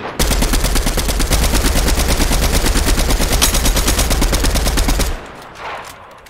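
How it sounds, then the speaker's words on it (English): Rapid automatic gunfire in a shooter video game, a loud sustained burst of evenly spaced shots lasting about five seconds before cutting off to quiet. "I'm shooting at the people in front of us"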